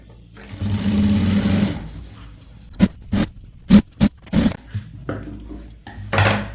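Sewing machine stitching the folded half-inch hem of a chudithar top, a steady hum for a couple of seconds, then short bursts of stitching separated by brief pauses, close and clear.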